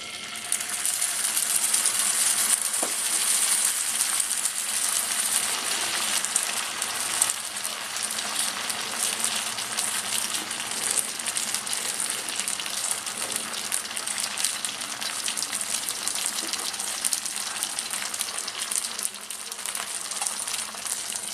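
Sago dosa batter hitting a hot griddle on a gas stove, giving a loud, steady sizzle that holds close and unbroken with no talk over it.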